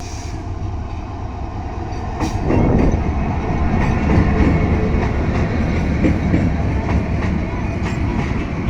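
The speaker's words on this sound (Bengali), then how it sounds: "বিশাল বড় ট্রেনটি জয়দেবপুর স্টেশনে এসে থামবে যেটি ঢাকা থেকে ছেড়ে আসলো" A long passenger train from Dhaka rolls into Joydevpur station, a close, heavy rumble that swells after a couple of seconds, with rhythmic wheel clatter on the rails and faint background voices.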